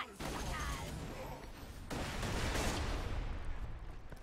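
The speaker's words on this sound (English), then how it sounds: "Wow, that's a lot of explosions." Explosions in the shooter game Borderlands 2 come as a burst of dense, crackling blasts, with a second rolling volley after a short pause, all fairly faint.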